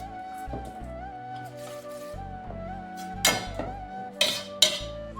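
Instant idli batter with a pinch of coriander stirred in a bowl in a home kitchen, with scraping and clinks of a spoon against the bowl, a few sharper knocks near the end, close and moderately loud.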